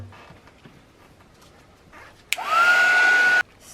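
Heat dryer drying a craft journal page, switched on after quiet handling sounds and running as a loud, steady high whir for about a second before stopping abruptly.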